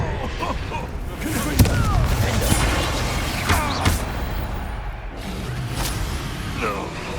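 Hogwarts Legacy spellcasting: sharp booming spell blasts burst out in quick succession over continuous rumbling combat, with a voice speaking between the impacts.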